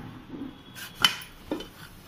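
Lid of a pressure cooker opened in a home kitchen while raw papaya curry is prepared, a couple of quiet metallic clanks and a sharper clatter of pot and lid, faint and close, with no talking.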